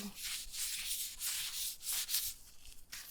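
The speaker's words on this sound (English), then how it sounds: "I'm just going to take this alcohol wipe here." Alcohol wipe rubbed back and forth with latex-gloved hands in a close, steady series of soft, hissing scrubbing strokes, with no voice.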